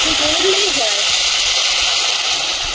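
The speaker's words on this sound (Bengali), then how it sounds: "তো শেষমেশ জল দিয়ে দিচ্ছি" Water hits a hot kadai of egg and potato curry, giving a loud, steady broadband hiss and sizzle that runs unbroken throughout, with a voice briefly heard at the start.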